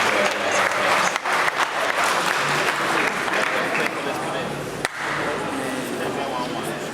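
Audience applause for a speaker at a school debate, a dense, loud wash of many hands clapping that continues steadily without a break and eases only slightly toward the end.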